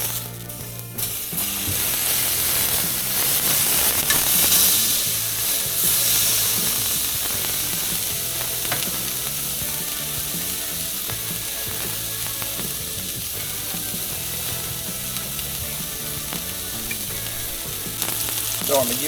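Tuna sears in a hot pan, giving a loud, continuous close sizzle with crackling spits and occasional scrapes, steady for a long stretch.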